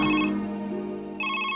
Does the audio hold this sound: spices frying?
no